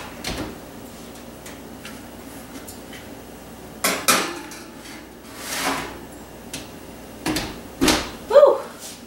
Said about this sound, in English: So let's get this in the oven.